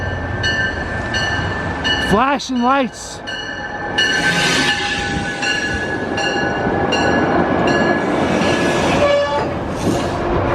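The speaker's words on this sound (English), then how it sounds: "Oh my, a Trump train coming." Train rolling through a station in Seymour, Connecticut, a steady rumble under ringing crossing bells, with a wavering horn blast early on; someone talks over it throughout.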